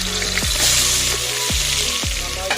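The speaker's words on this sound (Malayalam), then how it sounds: "ഇനി നമുക്കിതിൽ അരിഞ്ഞു വെച്ച സവോള" Sliced onions drop into hot sunflower oil for jackfruit dum biryani, giving a steady close sizzle with a few thuds of stirring against the pan, no talk.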